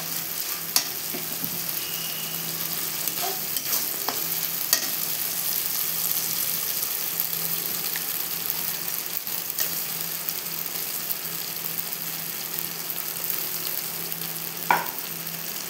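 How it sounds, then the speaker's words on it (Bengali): Ground spice masala frying and being stirred in oil for egg biriyani, with fried onions already in the pan: a steady, close sizzle throughout, broken by a few sharp scrapes and clicks of a spoon against the pan. "ভালো করে আমি কষাবো এখন মশলাটা।"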